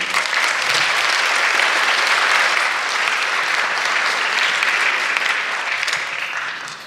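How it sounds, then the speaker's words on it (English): A theater audience breaks into loud, sustained applause, a dense, even wash of clapping that holds steady for several seconds before starting to taper off at the end. "I would like to have a round of applause for him"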